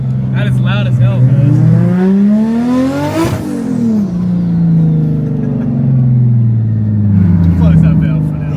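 A Nissan Silvia S15's engine roars loudly with its exhaust valve open, revving up into a sharp peak and then dropping back down. The sound is close and continuous, with voices talking over it.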